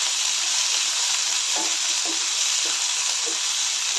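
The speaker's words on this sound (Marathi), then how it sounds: "त्यानंतर आपण कढीपत्ता कांदा टोमॅटो लसूण सर्व घालून चांगलं परतून घ्यायचं आहे" Curry leaves, onion, tomato and garlic sauté in a hot pan with a loud, steady sizzle and hiss, and a few soft scraping stirs come through near the middle, heard close up with no voices.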